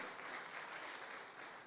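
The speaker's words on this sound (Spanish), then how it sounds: "Denle un aplauso a Dios" A church congregation applauds steadily and evenly, a dense wash of clapping heard from within the room at a modest level, with no voices above it.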